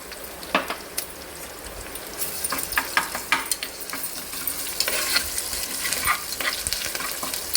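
Ginger garlic paste fries in a pan for a Ponaganti greens dal, giving a steady soft sizzle with scattered stirring scrapes and clicks close by, and no talking.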